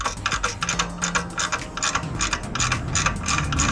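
A ratchet wrench tightens exhaust mounting bolts on a Harley Sportster fitted with Vance & Hines Twin Slash slip-ons, giving rapid bursts of close, crisp clicking in quick repeated strokes.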